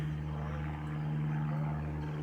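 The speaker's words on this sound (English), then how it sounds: "Yay, plane!" An airplane passes overhead outdoors, a steady low droning hum that holds evenly throughout, faint and distant, with no talking.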